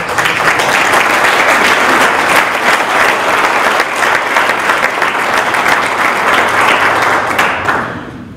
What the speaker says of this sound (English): big round of applause for commanding officer